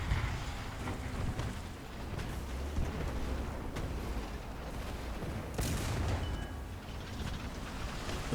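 Artillery fire in War Thunder during a tank battle with an American T20 medium tank: repeated booming blasts and rumbling impacts over dense battlefield noise, with sharp reports scattered throughout.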